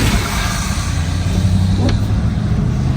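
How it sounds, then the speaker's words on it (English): A car passes close by on a wintry road, a loud, steady broadband rush of engine and tyre noise that holds for the whole stretch, heard from inside a moving vehicle. "a car coming in front of us"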